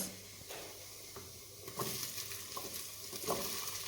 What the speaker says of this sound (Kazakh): Ең бірінші қазанымызды қыздырып, пиязымызды салып, жақсылап тұрып қуырамыз.